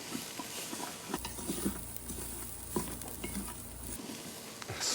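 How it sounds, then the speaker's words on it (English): Spices toast and onions soften in a pan at home, giving a steady low sizzle and frying hiss with soft scraping and stirring clatter, close and fairly quiet with no talking. "we can let these spices toast while the onions soften"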